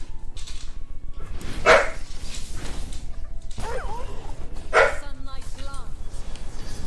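A space dog in a video game gives two sharp, loud barks a few seconds apart, amid dense game noise and rhythmic ticking, with people talking over it.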